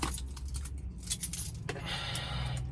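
A set of keys jangles close by in a quiet spot, with several bright metallic clinks and rattles spread over a few seconds, one sharper jingle standing out midway.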